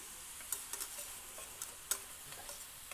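Yellow onion cooking in butter, heard as a quiet, steady sizzle with faint ticking pops and stirring clicks, close and soft with no voices.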